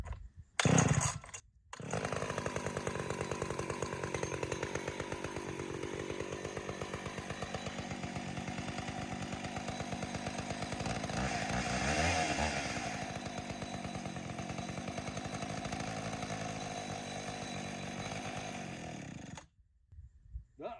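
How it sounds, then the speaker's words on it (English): A chainsaw, unused for a couple of days, is pulled a couple of times, fires up without choke and runs loud and steady close by for about twenty seconds, its engine revving up once midway before shutting off. "This hasn't been started in a couple days. Hopefully it fires right up."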